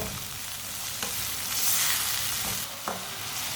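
Tomatoes, spices and dried pomegranate seeds fry in a pan for stuffed bitter gourd. A loud, steady sizzle runs throughout, with brief stirring scrapes breaking through now and then.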